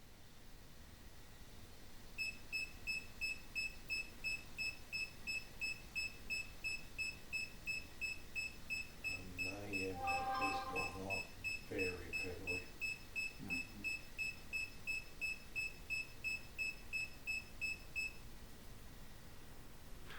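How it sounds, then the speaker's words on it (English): An EMF meter alarm beeps in a steady rapid train of short high pitched tones for most of the stretch, fairly faint over a noisy background, with brief muffled sounds in the middle. "the silence was pierced by the alarm of the EMF meter"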